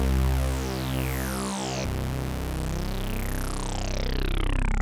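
A Chroma Console guitar effects pedal plays a low-octave tone, a dense harmonic drone with descending swept overtones and a sharp change partway through, moderately quiet and without talk.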